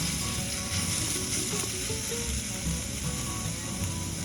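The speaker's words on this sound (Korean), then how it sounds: "대파를 미리 넣어서 볶아주면 대파향이 아주 좋습니다" Chopped green onions stir-fry with radish in a pan for a spicy oyster ramen, a dense continuous sizzle close up with faint scraping and clinking of stirring throughout.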